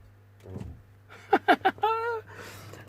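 Electric parking brake on a BMW X5 E70 with a parking brake fault applies with a short motor whir, a few quick clicks and a sustained whine, close by in a quiet setting.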